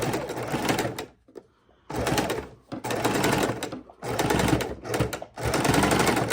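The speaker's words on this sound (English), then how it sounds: "And we're going to sew down the other side." A sewing machine stitching a fabric microwave potato bag, running in four or five steady whirring bursts separated by short pauses, close and without talk.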